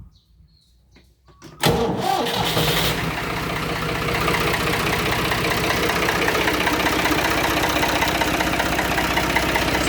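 After a moment of quiet, the diesel engine of a Ford 4630 tractor cranks and catches, then settles into a loud, steady, rattling idle nearby, after engine flush fluid was added.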